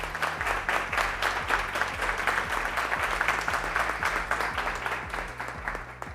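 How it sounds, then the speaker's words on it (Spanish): Audience applause at a science and innovation event, steady dense clapping lasting throughout, loud and close, with a faint low hum beneath it. "Fuerte el aplauso."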